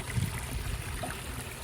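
Water from a pumped hose pours into a backyard pond, a steady close splashing and gurgling rush with no pauses.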